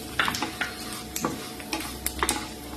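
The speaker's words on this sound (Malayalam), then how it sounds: "ഇതിലോട്ട് അടുത്ത് നമ്മൾ വെച്ചേക്കുന്ന എള്ളിടുകയാണ് എള്ള് ഇത്തിരി ഒന്ന് ചൂടായാൽ മതിയാവും" Sesame seeds roasting in a pan while being stirred, a soft continuous scraping with a faint sizzle and small ticking pops and spoon taps scattered throughout.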